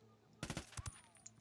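Video game gunfire in Ghost Recon Wildlands: a quick burst of three sharp shots followed by two more, faint and close together, over a quiet background.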